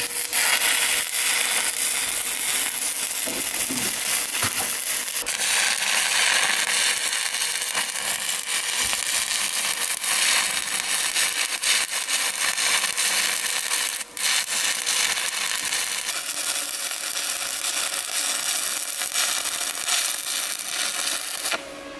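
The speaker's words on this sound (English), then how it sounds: "it's just a case of set your amperage and you're ready to weld." Stick welding with a Bohler Uranos 2000 SMC multi-process welder makes a dense, steady crackling and hissing arc that stays loud and close from start to finish, with brief shifts in tone.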